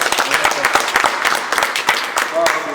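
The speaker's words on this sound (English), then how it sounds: "Let's give Mr. Daula another round of applause." An audience at an investment-principles talk applauds the speaker, a dense spread of individual claps close by and fairly loud, continuing steadily for a few seconds with voices mixed in.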